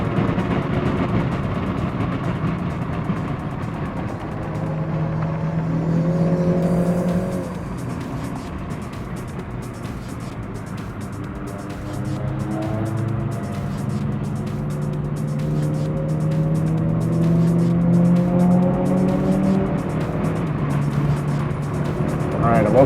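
A Toyota GR Yaris lapping the Zandvoort Formula 1 circuit on a track day, its engine droning steadily from inside the car, rising and falling with acceleration and passing traffic while a driver talks over it.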